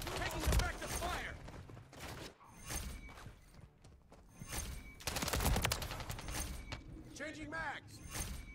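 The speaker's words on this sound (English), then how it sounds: "Taking effective fire!" Gunfire in the video game Modern Warfare 3, with dense bursts of automatic fire and sharp single shots, loud and close, along with mechanical clacks, and voices shouting between the volleys.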